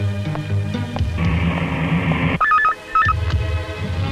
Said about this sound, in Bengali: আমি বিকাশ ওকে ফোনটা করে আসছি